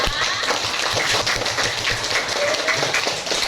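A classroom of students applauds group 2 with dense, steady clapping that sounds almost like rain. The clapping runs throughout at fairly even loudness, with faint voices mixed in.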